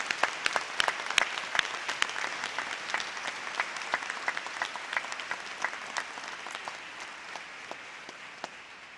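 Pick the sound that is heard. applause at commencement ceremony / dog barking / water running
applause at commencement ceremony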